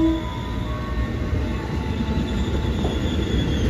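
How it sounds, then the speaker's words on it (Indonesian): A commuter train rumbles steadily past at close range at Rangkasbitung station, Indonesia, a continuous heavy roar of wheels on rails with faint metallic squeals. "cepet banget ya alur keluar masuk kereta di Rangkas Bitung ini"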